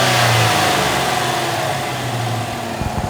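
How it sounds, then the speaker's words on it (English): A Chevy Silverado truck fitted with a K&N 63 Series cold air intake revs loudly up close, engine roaring with rising and falling pulls before cutting off abruptly at the end. "start this truck up, Tyler, and let's take a listen to this"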